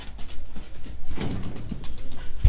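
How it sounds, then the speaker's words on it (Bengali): Domestic pigeons moving about a farm loft give soft, low coos over a steady rustling background, faint and somewhat distant, with no talking. "এখানে এই যে উপরে কিন্তু কবুতরগুলো খেলা করতেছে"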